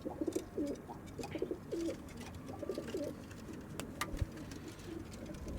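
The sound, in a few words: pigeons cooing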